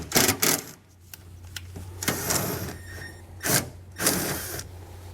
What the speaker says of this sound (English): we're going to take our self-tapping screw and just find a bare piece of metal somewhere inside here to attach this to